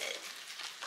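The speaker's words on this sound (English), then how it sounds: "Apparently you're gonna mix this ricotta cheese with Parmesan" Ricotta cheese and Parmesan being stirred together in a bowl give a soft, wet, continuous scraping and squishing for under a second, fairly quiet and close, with no talking.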